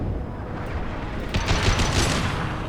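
Gunfire in Mass Effect 2 on Insanity difficulty, a rapid cluster of shots swelling over a rumbling background in the second half, moderately loud with no talk.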